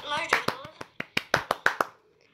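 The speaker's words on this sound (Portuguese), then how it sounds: "Palmas." A few people clap in a short, uneven burst of about eight sharp claps close by, starting over a voice and fading out.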